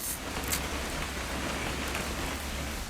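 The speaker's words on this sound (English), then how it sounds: "It's gonna rain the whole weekend, isn't it?" Rain falling in What Remains of Edith Finch, a steady, even hiss of rainfall pattering on surfaces, heard alone at moderate level with a few slightly louder splashes.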